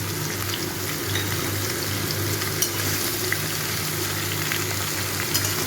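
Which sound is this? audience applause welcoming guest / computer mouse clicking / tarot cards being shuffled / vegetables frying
vegetables frying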